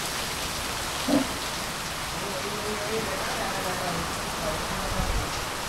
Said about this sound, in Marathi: पाऊस आला पाऊस आला पाऊस.